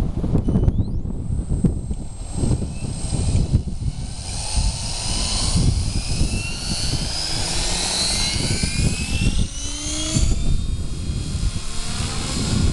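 Gaui X7 RC helicopter flying, its rotor and motor whine loud and steady throughout with rising and falling pitch sweeps as it maneuvers, wind buffeting the microphone outdoors.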